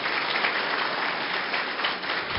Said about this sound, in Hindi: मैं अपने बच्चों से कहता हूं कि जोर से ताली बजा के स्वागत करें